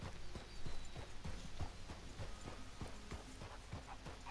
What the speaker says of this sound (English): See, the horse loves to canter.